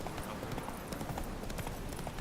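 Hooves of Roach, a horse in the Witcher 3 video game, trotting in a steady, dense clip-clop over a constant loud rumbling bed of background noise.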